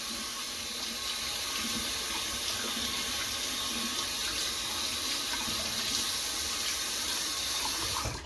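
A tap runs steadily into a sink while makeup brushes are washed, giving a constant close rush of water that lasts the whole time, with no voices over it.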